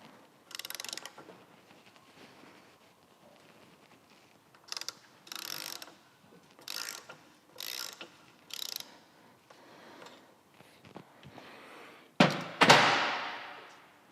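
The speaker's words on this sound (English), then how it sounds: "It's time to start getting this top and bottom triple tree off." Hand tools work on a Harley Road King's top and bottom triple tree, giving a string of faint ratcheting clicks and mechanical bursts in close quarters, ending with a louder clunk and scrape.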